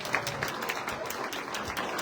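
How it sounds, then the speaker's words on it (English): Audience applause for Representative Karla Lems at the Butte County Lincoln Day Dinner, a steady wash of clapping across the whole stretch at moderate level, with no voices standing out. "Give her a round of applause."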